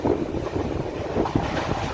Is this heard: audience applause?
no